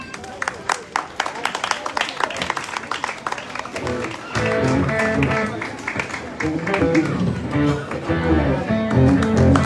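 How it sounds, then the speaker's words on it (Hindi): At a Karachi evangelism meeting in Azam Basti, a congregation gives strong applause, rapid clapping that grows fuller and louder in the second half, with music and voices underneath. "जोरदार ताली।"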